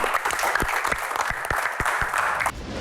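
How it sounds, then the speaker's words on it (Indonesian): Studio audience at an Indonesian comedy Q&A show breaks into steady, dense applause with scattered sharp claps, sustained throughout before thinning at the end. "tepuk tangan untuk Pak Bolot."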